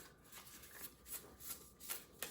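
Oracle cards riffle and slap together in a few quick, soft bursts, close by and fairly quiet, with no talking.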